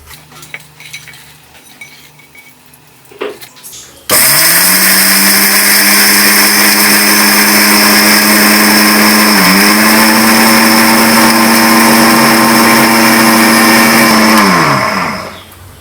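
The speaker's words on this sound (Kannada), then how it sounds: "ಇದನ್ನು ಡ್ರೈ ಆಗಿ ಗ್ರೈಂಡ್ ಮಾಡ್ತಿರುವಂಥದ್ದು" A mixer grinder dry-grinds roasted chana dal and red chillies, starting abruptly after a quiet moment and running as a loud, steady whirring roar with a brief dip in pitch midway before cutting off near the end.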